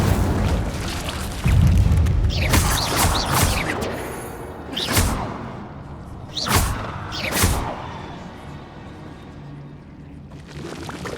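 Incendio fire spells cast in the video game Hogwarts Legacy burst out as a series of booming whooshes, several heavy thuds spaced a second or two apart over rumbling background noise.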